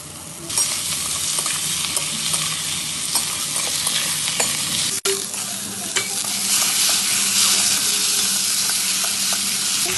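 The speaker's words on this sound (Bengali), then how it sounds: "ভাজা ভাজা করে নেব।" Ginger and garlic fry and are stirred in a pan over a clay stove, a loud, steady sizzle broken by scraping strokes of the spoon.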